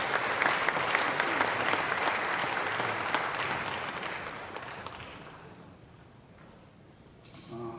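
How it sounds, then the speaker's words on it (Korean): An audience at a lecture on a missionary's life and mission theology claps loudly to welcome the professor, the dense applause holding for several seconds before fading away, then a few faint scattered sounds. "힘찬 박수 부탁드립니다"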